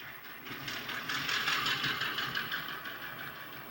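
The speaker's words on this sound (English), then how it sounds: "there is a single TCS high bass speaker in the B unit with wow sound. So you can hear the idle." Diesel idle from a TCS WOW sound decoder driving a single high-bass speaker in the B unit of a model locomotive, a steady, continuous low rumble with faint rhythmic pulsing, close and moderately loud, with no talking.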